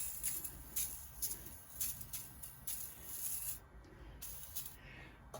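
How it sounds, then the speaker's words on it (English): A bottle of super clean cleaner spray on a snow blower gives repeated short hissing bursts, faint and close, in an uneven rhythm with brief pauses between sprays. "I'm going to use some of this super clean spray everybody raves about."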